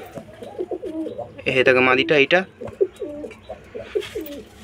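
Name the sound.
Dobaj pigeons cooing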